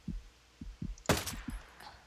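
A single sharp shot from a G28 Scout DMR rifle at about 400 meters in Ghost Recon Breakpoint, standing out in the middle of a quiet stretch with soft low thumps around it.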